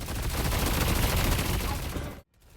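Sustained automatic gunfire from Haze emptying a full magazine in the hero shooter Deadlock, a dense, loud, continuous rattle for about two seconds that cuts off abruptly into near silence.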